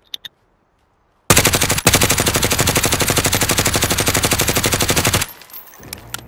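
Rapid automatic gunfire in a video game, shots fired through walls: a loud, continuous burst of evenly spaced rounds lasting about four seconds, with a couple of faint clicks before it and quieter sounds after.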